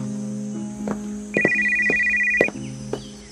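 A single electronic phone ringtone signals an incoming call in an Indonesian animated drama, sounding as one sustained ring of about a second over steady background music, with no talk.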